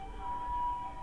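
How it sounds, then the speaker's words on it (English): A siren wails steadily in the distance on a Tokyo city street, its tone holding over low rumbling street noise for the full second. "I'm waiting for this siren to go by."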